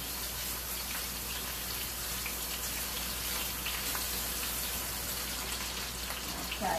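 Tap water runs steadily into a kitchen sink while hands are washed before browning a deer roast, a continuous close splashing hiss with no break and no voices.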